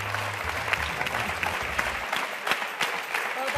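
Studio audience applause during a TV game show, a continuous round of clapping with a few sharper individual claps, and a low hum fading out in the first half.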